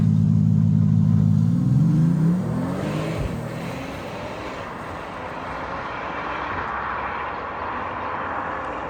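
A Mercedes-AMG E53 accelerates hard, its engine note climbing in pitch over the first seconds, then settling into a loud steady rumble with road and wind noise.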